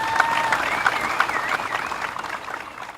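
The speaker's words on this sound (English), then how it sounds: "round of applause for Village Motorsports" An audience at a car cruise event claps steadily, a dense patter of many hands that fades slightly toward the end, with a whistle-like tone riding over it.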